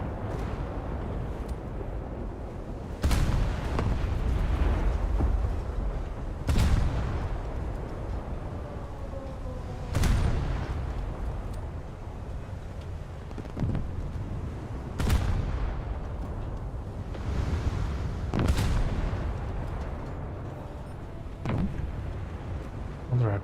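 US cruiser main guns fire in a naval video game, six or so heavy booms spaced a few seconds apart over a steady low rumble, each a sharp loud blast decaying quickly.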